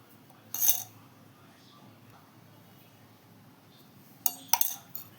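A spoon clinks against a bowl while ingredients are mixed with homemade ghee for a North Karnataka snack, one sharp clatter early and a cluster of metallic taps near the end, with quiet room noise between.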